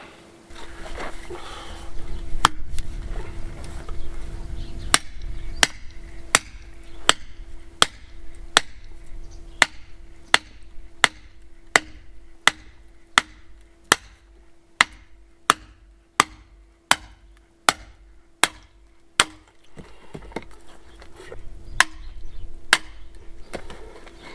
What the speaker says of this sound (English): So just split them with the axe